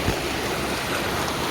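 Running Creek waterfall in Lamington National Park roars as a dense, steady wash of falling water, heard up close and alone.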